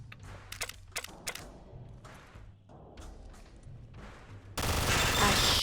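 Bursts of gunfire aimed at automated turrets in a Fallout game battle, with short separated shots early on, then a loud sustained volley of rapid fire at the end.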